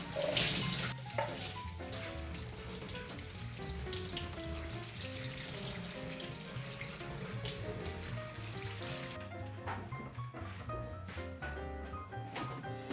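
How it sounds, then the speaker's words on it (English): Canned red beans rinsed under a running kitchen tap, a steady water splash lasting throughout with soft clinks, moderately loud and alone with no talking. "I rinse canned red beans well."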